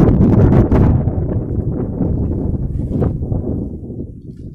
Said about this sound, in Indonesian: Berkibarnya menandakan di sini anginnya sangat kencang ya